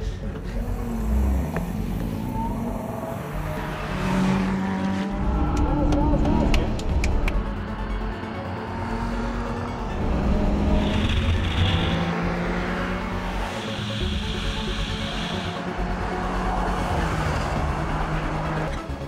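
A car engine in Gran Turismo Sport revs and blips through heel-and-toe downshifts, rising and falling in pitch over and over, with someone talking throughout.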